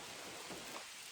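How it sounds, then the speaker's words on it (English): Steady outdoor rain during target practice in Michigan, a dense, even hiss of falling drops throughout, moderately loud with no voices. "It just started raining, so we threw the hoodie on."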